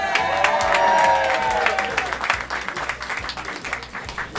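Crowd applauding and cheering at an official groundbreaking ceremony for ZooShare, a dense, steady wash of clapping that tapers slightly toward the end, with faint voices mixed in.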